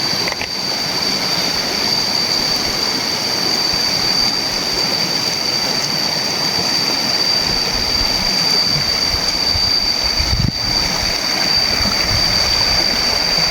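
A river rushes steadily beside rice fields, a loud, continuous broadband wash of flowing water with a faint high whine running throughout and no talk.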